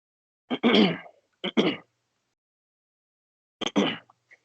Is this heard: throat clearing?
yes